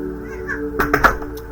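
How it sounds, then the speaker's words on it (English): A pet cat meows several times indoors, short close calls clustered together over a low steady room hum. "Oh, kitty."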